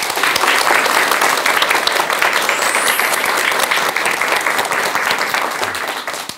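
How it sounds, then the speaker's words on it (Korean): Lecture audience gives a long round of applause to welcome a speaker, thick continuous clapping from many hands filling the room at even loudness before tapering slightly at the end. "여러분 큰 박수 부탁드립니다."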